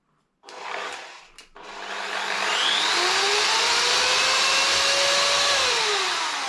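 After a couple of brief clicks, a Parkside PWDS-920-B2 wall and ceiling sander whirs up to speed and runs loud and steady, its motor whine rising in pitch and then settling.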